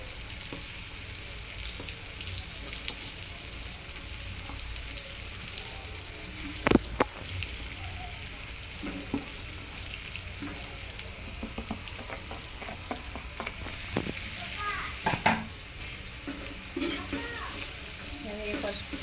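Peanuts roasting in oil on a low gas flame while being stirred, a soft continuous sizzle with scattered scrapes and clacks from the stirring, close and fairly quiet throughout.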